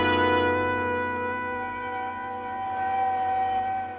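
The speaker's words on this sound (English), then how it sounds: "The sound of an ambulance wheeling into the receiving room below shatters your train of thought." Ambulance siren sound effect from an old-time radio detective drama, a steady wailing tone with strong harmonics that holds for about four seconds at moderate loudness with no voices.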